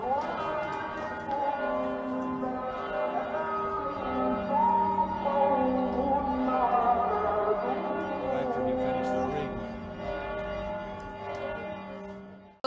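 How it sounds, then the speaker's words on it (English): Church bells ring at the Church of the Nativity in Bethlehem alongside a Muslim call to prayer, a sustained mix of ringing tones and a chanted voice heard from a distance, steady throughout. "you can hear the Muslim call to prayer and the bells ringing at the Church of the Nativity at the same time"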